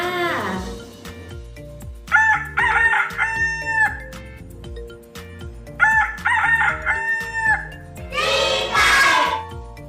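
A rooster crows twice in full cock-a-doodle-doo calls, loud and close, with a further crowing burst at the end, all over a steady patter of low, rhythmic background music.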